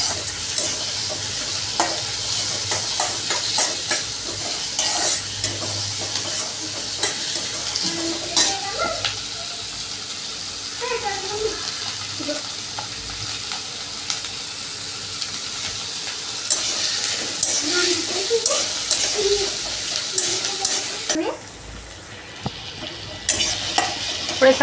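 Orange, white and green vegetables frying in a pan for soybean chilli, a continuous close sizzle with frequent spatula scrapes and stirring clatter throughout, no one speaking.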